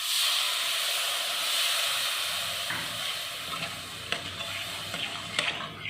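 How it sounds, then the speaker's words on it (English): Water hits a hot pan of cowpea chunk gravy with onions and cashew, setting off a loud, hissing sizzle that gradually eases into a softer bubbling with scattered clicks and stirring sounds. "It's almost done. Let me add water."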